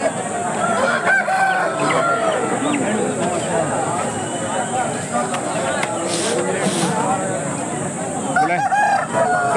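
Country chickens and roosters cluck and crow continuously at a busy Saturday poultry market in Akkirampura, Tumkur, many birds heard close and loud, with people talking throughout.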